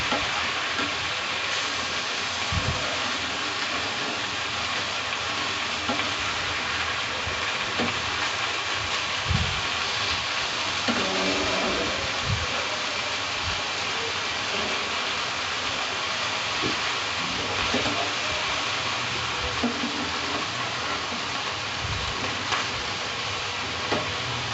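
Small kechki fish fry in oil in a covered pan, giving a steady, dense sizzle that runs evenly throughout with faint clicks and pops and no talk.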